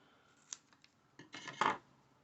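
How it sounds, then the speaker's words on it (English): Scissors snip a foam pad in half at close range, giving a few short crisp cuts and then a longer, louder snipping burst, with no talking. "I can cut this one in half actually"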